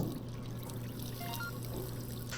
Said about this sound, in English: Let's go ahead and put some water in there.